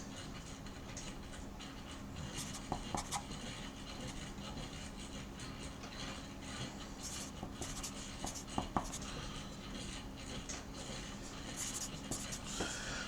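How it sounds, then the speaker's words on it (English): A pen scratches across paper, jotting down numbers in short, faint strokes and taps, close to the microphone, with no talk over it. "let me write down the data points"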